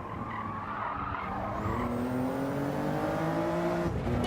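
Race car sliding with tyres skidding in the iRacing sim, a steady loud squeal over the engine drone that holds for several seconds as the engine pitch slowly climbs.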